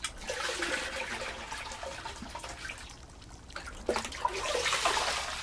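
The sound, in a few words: washing salted fish in water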